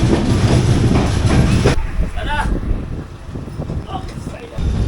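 A crowded passenger train running from Konkan to Mumbai rumbles loudly with steady clatter, then drops to a quieter interior roar with faint rattles and brief squeaks, and a voice is heard over it.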